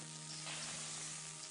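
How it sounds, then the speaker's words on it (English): Bacon sizzles in a pan in a visual novel video game, a steady quiet crackling fry with a faint low hum beneath it and no voices. "I hear bacon sizzling"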